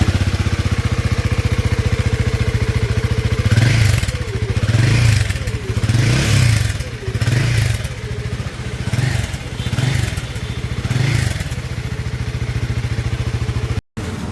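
A Guerrilla 450 motorcycle fitted with a Powerage slip-on exhaust idles with a deep, steady thump, then gives a series of rhythmic throttle blips that swell and drop about once a second before settling back to idle.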